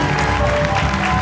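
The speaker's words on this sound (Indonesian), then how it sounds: "Tepuk tangan." A studio audience at a TV talk show claps briefly, a short steady patter of applause with a faint murmur of voices underneath.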